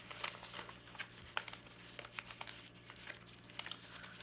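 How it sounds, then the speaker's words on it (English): A paper envelope crinkles and rustles as it is pushed into a budget binder, with soft, close, irregular crackles over a faint steady hum. "I'm also going to put Marcus's envelope in my weekly as well."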